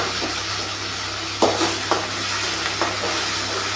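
Onions and tomatoes frying in a pan, a constant close sizzle under a low hum, broken by a few sharp clinks of a spoon against the pan.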